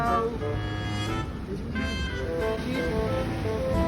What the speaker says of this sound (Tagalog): mahirap dito kasi malakas ang alon